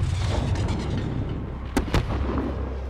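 Explosions in Call of Duty: Modern Warfare during a rooftop firefight: two sharp, loud blasts close together near the middle, over constant rumbling battle noise.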